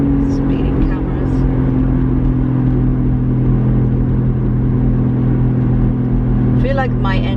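A car's engine and loud exhaust drone steadily while driving on a Friday night, a continuous close rumble with low tones throughout and a brief higher whine near the end.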